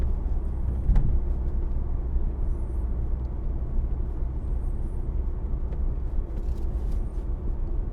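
Interior of a 2018 Kia Stinger GT cruising above 50 mph, a steady low road rumble and tire noise with engine drone, continuous and without talk.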